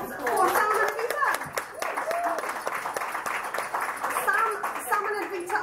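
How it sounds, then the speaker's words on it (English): A brief round of applause from a studio audience at a celebration episode, steady clapping with voices and a child's speech mixed in. "A round of applause for Sam and Vita."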